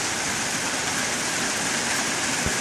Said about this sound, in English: It's amazing how this badass rain is coming out of so much blue sky.